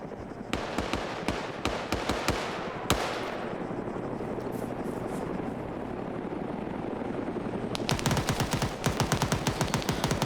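Rapid bursts of automatic gunfire fill a video game battle, with repeated clattering volleys at the start and end and a steady helicopter-like rotor drone running underneath throughout.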